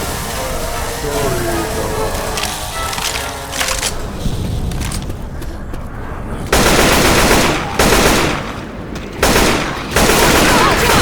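Heavy bursts of rapid automatic gunfire in Left 4 Dead 2 at a construction site, loud and close, coming in several sustained volleys separated by brief pauses, with shouted voices and game noise underneath earlier on.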